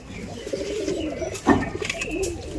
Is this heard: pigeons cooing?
yes